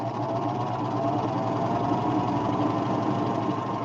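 A Baby Lock Vibrant serger runs a very short stitch with a steady, even motor whir and rapid mechanical chatter, close and constant throughout, with no talking.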